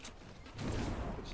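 Bursts of gunfire in a squad-based shooter game crackle with a dense rumble, louder in the second half, under Swedish chatter from players.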